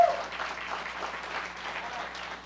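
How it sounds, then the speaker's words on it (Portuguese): A church congregation claps together, a steady wash of applause that is moderately faint and somewhat distant, lasting the full two and a half seconds with no voice over it. "uma salva de palmas ao Senhor"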